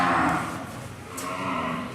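Cattle at a livestock show low in a steady, fairly loud moo lasting about two seconds, with a second swell of mooing following, no voices over it.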